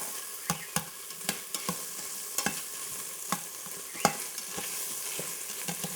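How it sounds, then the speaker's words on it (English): Tomato paste sizzles in the hot inner pot of an Instant Pot while a utensil stirs and scrapes it, giving a soft, steady frying hiss punctuated by regular close clicks and scrapes. "You have to cook the tomato paste."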